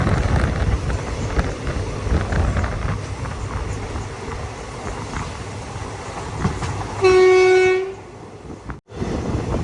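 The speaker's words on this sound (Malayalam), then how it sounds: "പയ്യന്നൂർ റെയിൽവേ സ്റ്റേഷനിലേക്ക് ഇതാ ട്രെയിൻ എത്തിക്കൊണ്ടിരിക്കുകയാണ്" The Mangaluru Express rumbles into Payyanur railway station with steady rolling noise, then sounds one long, loud, close horn blast before the sound cuts off abruptly.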